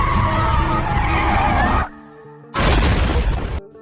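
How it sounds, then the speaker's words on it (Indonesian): A car skids and crashes into a building, a long loud tire screech breaking into a burst of shattering glass and debris after a short pause. "Hingga akhirnya mobil itu pun menabrak sebuah gedung."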